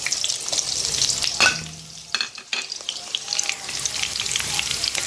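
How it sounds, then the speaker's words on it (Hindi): Onion frying in ghee in a pan sizzles steadily and fairly loud, with some stirring scrapes partway through and no talking. "मुझे चाहिए एक अदद बड़ा प्याज। वो मैं लेके इसको मैं घी में डाल दूँगी"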